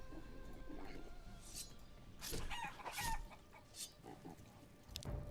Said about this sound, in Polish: kury wysiadują jajko